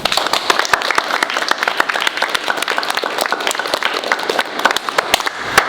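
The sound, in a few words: middle school students clapping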